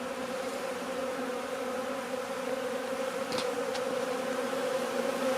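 Honeybees swarming busily around a crowded hive during a test outing after wintering indoors, producing a steady, close, continuous buzzing hum with no voices.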